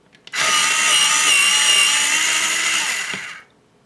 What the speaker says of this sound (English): So I'll see what it does here in the sharpener.